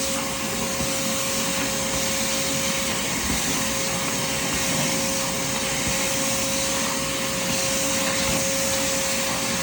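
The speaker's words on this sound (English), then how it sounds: "use a handheld vacuum, not an upright vacuum" A handheld vacuum cleaner runs over a thin doormat with a loud, steady motor whine and airflow roar that continues without a break from start to finish.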